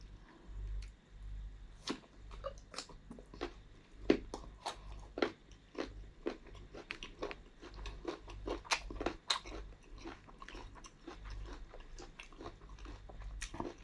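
Crisp, repeated crunching bites and chewing of green mango eaten with shrimp paste, close and loud in a quiet room, coming in an uneven rhythm of sharp snaps.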